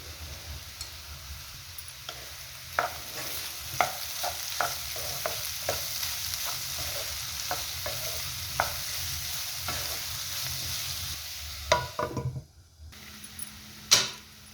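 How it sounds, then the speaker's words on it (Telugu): Beetroot pieces for a tempering, seasoned with salt and turmeric, fry in a pan with a steady low sizzle while a spoon scrapes and stirs in irregular clicks and knocks, close up and with no talking. "ఈ బీట్రూట్ తాలింపు సగానికి పైగానే ఫ్రై అయింది"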